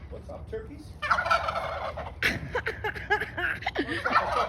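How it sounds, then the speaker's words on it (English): Wild turkeys gobbling near a house in New Jersey, a flock giving repeated loud rattling gobbles in overlapping bursts, starting after a quieter first second and continuing close by. "Look at these guys. Come here, turkey."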